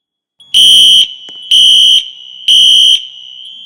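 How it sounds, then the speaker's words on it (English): Wheelock NS fire alarm in a fire alarm video game, three loud harsh horn blasts of about half a second each at an even pulse, with a piercing strobe-like tone running between them. "These alarms sure are loud."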